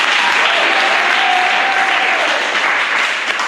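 A church congregation claps for Jesus during a service, a loud, dense, sustained applause that fills the space evenly for several seconds, with faint crowd murmur underneath.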